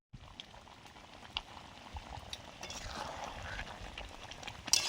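Water pours steadily into a bowl of gram flour batter seasoned with salt, turmeric, chili powder and nigella seeds, a soft continuous trickling close by, faint and gently rising.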